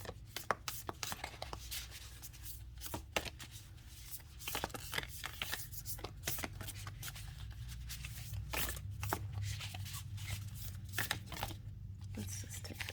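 A deck of Heart and Soul Oracle message cards being shuffled by hand, close up, with repeated riffling and soft rubbing snaps in an irregular rhythm for several seconds.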